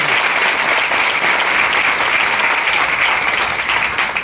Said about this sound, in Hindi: जोरदार तालियां आप सबके लिए, जोरदार तालियां